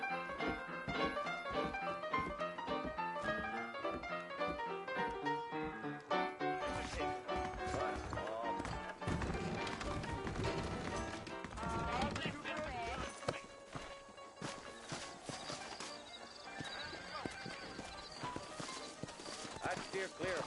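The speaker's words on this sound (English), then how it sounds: "I got the horses saddled up and ready out front." Horses trot in the Red Dead Redemption video game with a rhythmic clip-clop of hooves beneath a bed of game music, while voices talk over them.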